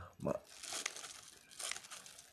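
Blunt scissors hack at thin plastic, making a few crinkling, tearing crunches in short bursts, while a person talks at low volume.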